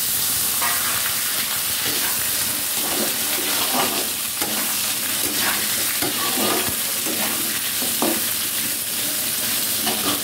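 Potato chunks frying in a pan for veg biryani-style khichuri, with steady sizzling and scraping stirs, close and loud throughout, no voices.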